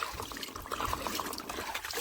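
Water is poured into a container outdoors, a steady close trickle and splash that runs on without a break, with light background noise and no voices.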